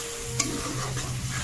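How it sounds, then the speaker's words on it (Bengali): Peas are stirred into spices in a hot pan, a short close scrape of the spoon followed by a soft, steady sizzle. "মশলার সঙ্গে ভালো করে কষাতে হবে মটরটাকে।"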